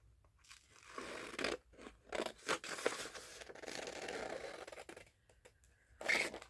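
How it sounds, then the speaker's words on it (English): Scissors cut around a digital transfer printed on fabric, a series of close crunchy snips and rustling cuts in an irregular rhythm with short pauses, no talking. "So I'm just going to kind of cut it out with just a little border, not a big one."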